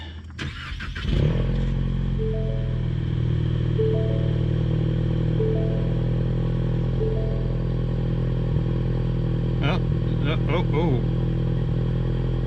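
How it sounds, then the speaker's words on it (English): A Ford Mustang EcoBoost engine cranks and settles into a steady idle with a misfire, a loud continuous rumble with faint uneven stumbles and a few clicks, while people talk over it. "Yeah, I mean, you can still hear the misfire, but it's not nearly as pronounced now."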